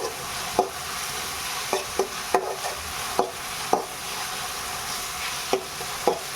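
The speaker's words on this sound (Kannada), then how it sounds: "ಇದು ಕೂಡ ಫುಲ್ಲು ಫ್ರೈ ಆಗಬೇಕು ಇದು ಫ್ರೈ ಮಾಡಿಕೊಂಡು" Food frying steadily in a pan, a continuous hiss with repeated sharp spatula scrapes and taps at irregular intervals as it is stirred, close and moderately loud, no voices.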